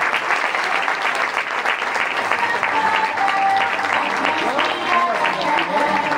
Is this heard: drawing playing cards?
no